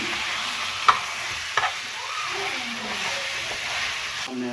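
Chopped garlic sizzling in hot cooking oil, a steady close fry with a couple of sharp clinks near the start and faint stirring scrapes.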